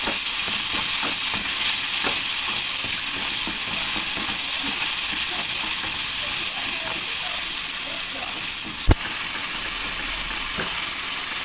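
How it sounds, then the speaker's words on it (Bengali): Bombay duck fish masala sautéing in a pan, a loud continuous sizzling hiss with faint stirring scrapes and one sharp knock near the end, close up and without speech. "সমস্ত উপকরণ একসঙ্গে কষানো হচ্ছে ভালো করে।"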